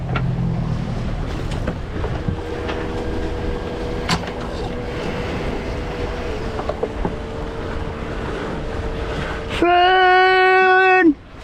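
A MacGregor 26 sailboat under way in the Florida Keys, wind and water rushing steadily around the hull, with brief creaks and knocks, then a loud tonal whine near the end.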